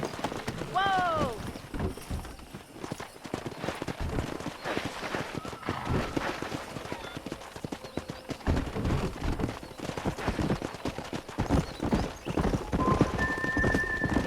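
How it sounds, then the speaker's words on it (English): Hooves pound rapidly in a galloping rhythm while a horse neighs near the start, with bustling Red Dead Redemption game ambience and a few voices underneath. "Let's see if we can't wrangle some horses."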